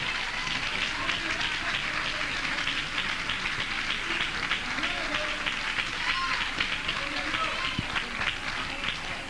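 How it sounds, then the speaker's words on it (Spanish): A church congregation applauds during an evening evangelical service, a dense, continuous patter of many hands clapping with a voice faintly present underneath. "Denle un aplauso a Cristo que Él está aquí en esta noche."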